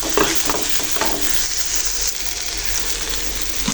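Sliced bitter gourd goes into a frying pan already holding turmeric, salt and garlic paste, setting off a loud, continuous close sizzle with scraping stirs throughout.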